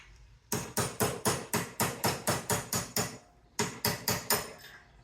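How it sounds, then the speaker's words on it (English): Steady hammer taps knocking plastic ends out of scrap copper held in a vise, a rapid run of about a dozen sharp metallic strikes, a short pause, then another burst, loud and close with no speech. "putting it in my vise and tapping it out with a"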